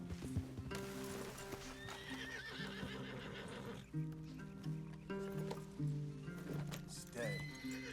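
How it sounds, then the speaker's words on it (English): Horses whinny repeatedly over steady hoof clip-clops in a video game, with a constant low musical drone underneath. "Leave the horses in the trees there."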